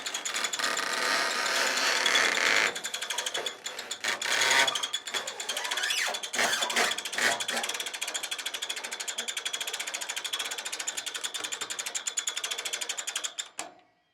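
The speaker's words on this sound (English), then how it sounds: "Very little effort with that winch." Ratcheting winch cranked by hand on a Woodland Mills HM126 sawmill to turn a large post oak log, a steady rapid clicking of pawl and gears running continuously and close up, then stopping abruptly at the end.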